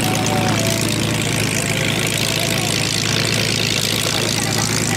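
A propeller airplane roars past in a fast low pass at an air show, its engine drone loud and sustained throughout, with a commentator's voice faintly mixed in.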